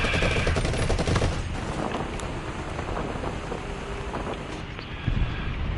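Gunfire in a War Thunder tank battle: bursts of rapid shots crackle over steady wind-like rumble, fairly loud at first and then settling into continuous noise with scattered sharper reports.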